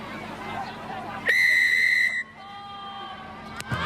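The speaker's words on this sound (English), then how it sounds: "just waiting for the whistle" A referee's whistle blown to start a girls' high school rugby final, one loud shrill blast of under a second, then quieter whistle tones and crowd murmur in the background.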